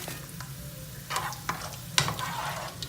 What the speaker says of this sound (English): I hope you can hear the voice of the chips, the crispier chips, when I'm placing them onto the plate